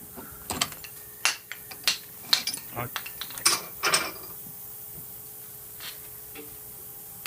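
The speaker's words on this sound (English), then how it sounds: "Carefully unthread the piston rod assembly" A piston rod assembly with left-hand threads is unthreaded from the gearing of a pulley pusher spindle, giving sharp metallic clicks and ratcheting ticks in an irregular run, then a quieter stretch.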